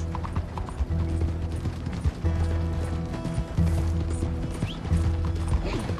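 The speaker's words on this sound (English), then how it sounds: "it looks like I'm getting on my horse friend here" Horse hooves clip-clop at a steady walking rhythm in Red Dead Redemption 2, layered over a constant game soundscape with humming tones and faint mechanical rattles.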